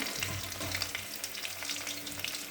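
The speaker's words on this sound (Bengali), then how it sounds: "তো মাছ ভাজা হচ্ছে" Fish frying in a pan, a dense continuous sizzle and crackle of hot oil, close and steady throughout with no talk.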